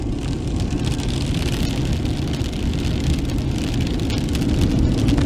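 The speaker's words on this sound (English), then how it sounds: "The hail is getting a lot bigger now." Steady roar of hail hammering a car in a mountain snowstorm on Greenhorn Mountain, thick and close, with sharp ticks of bigger stones scattered through the relentless patter.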